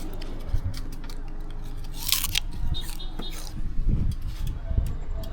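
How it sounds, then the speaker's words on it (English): Sugar cane bitten and chewed outdoors in Jamaica, giving close, wet crunching and tearing bursts in an irregular rhythm over a murmur of background noise. "We bite it and chew."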